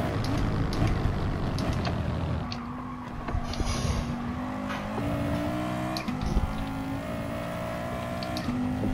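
Race car engines in Gran Turismo Sport during an online FIA Nations race, a continuous loud engine drone with shifting pitch as cars run close together.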